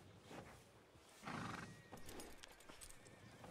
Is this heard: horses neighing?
yes